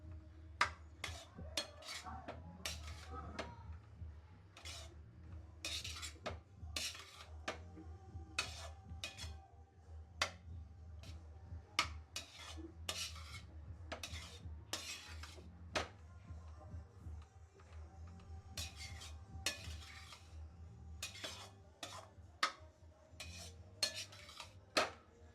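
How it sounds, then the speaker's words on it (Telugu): A spoon clinks and scrapes in a bowl as turmeric is mixed into rice for pulihora, a quick, irregular series of light metallic taps close by, soft and steady over a low hum. "పసుపు కూడా నేను ఇందులోనే వేసుకొని కలుపుకుంటున్నాను"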